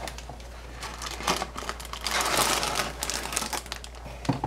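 A plastic bag holding parts for a Miniart World War II Allied road sign kit crinkles up close in quick, irregular bursts, with a longer stretch of rustling in the middle and a few sharp snaps.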